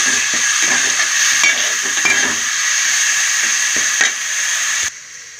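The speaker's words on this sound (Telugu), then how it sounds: "ఇప్పుడు ఇందులో గరం మసాలా ముద్ద మనం చేసుకుందా రైస్ వేసుకుందాం వేసుకుని మొత్తం ఇదంతా ఫ్రై అవ్వాలి" Garam masala paste sizzling and frying in a pan with rice for a pandu meenu fish curry, a steady close hiss with stirring scrapes throughout, cutting off near the end.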